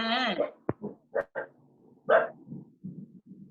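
A dog lets out a drawn-out whining yelp followed by several short, sharp barks and softer grumbling woofs, close by and with no talking over them.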